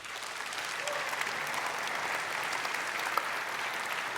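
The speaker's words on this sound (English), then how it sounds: "I think that deserves a huge round of applause" Big keynote audience at Unite Europe 2015 applauding, a broad, even roar of many hands that holds steady throughout, heard from within the hall.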